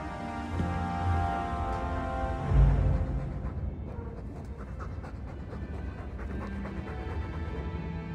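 A dog in Dragon Age 2 pants steadily with heavy, rhythmic breaths close by, a low thump partway through, with faint ambient game sound underneath.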